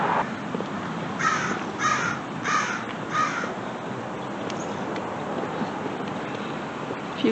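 Crows cawing outdoors, a run of four loud caws in a quick rhythm, then quieter scattered calls over steady wind and background noise.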